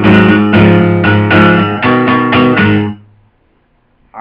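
Guitar riff played up to speed, loud rhythmic chopped chords in several bursts, ringing out and fading to near silence before a new attack at the end.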